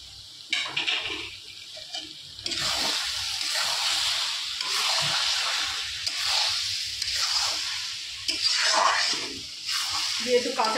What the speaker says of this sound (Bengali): আদা পেঁয়াজ রসুনের পেস্টটা আগে ভালো মতো একটু কষিয়ে নেব